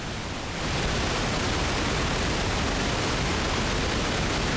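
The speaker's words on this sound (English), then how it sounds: "Nice, much more staticky and like chaotic than white noise." Pink noise from a synthesizer module swells in during the first half second, then holds as a dense, steady, rumbling hiss with no talking over it.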